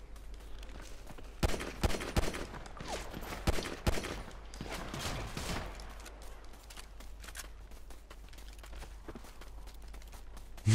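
Pistol shots ring out in GTA 5 Online, a rapid string of sharp cracks in the first half, then scattered quieter pops and footsteps over a low hum.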